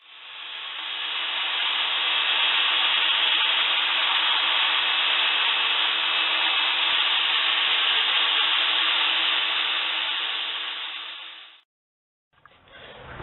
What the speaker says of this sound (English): the next step I think is going to be sanding